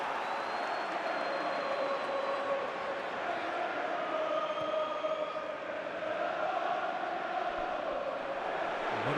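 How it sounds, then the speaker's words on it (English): Stadium crowd applauding before a football match between Aston Villa and Middlesbrough as a tribute, a steady broad wash of clapping from a large crowd that holds for several seconds. "a round of applause for J. Lloyd Samuel, who passed away earlier today"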